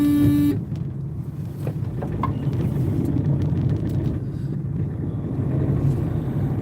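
Cars and other vehicles driving dangerously on a road in India, heard as a steady loud traffic rumble with wind buffeting and a brief horn toot at the start.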